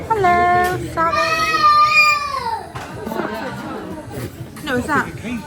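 A parrot at a railway garden centre screeches in several loud, shrill bursts among chattering voices and indoor crowd babble.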